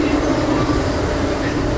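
Steady low rumble and broadband hiss inside an Amtrak passenger train, continuous and fairly loud, with a voice faintly under the noise.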